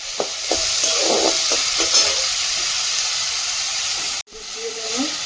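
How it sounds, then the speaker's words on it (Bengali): Soybean chunks fry in hot oil in a wok with a steady, broadband sizzle and hiss. Faint stirring clatters sound through it, with a brief break near the end before the sizzle resumes. "কড়াটা গরম হয়ে গেছে, তেল দিয়ে দিলাম, সয়াবিনগুলো ভেজে নেব"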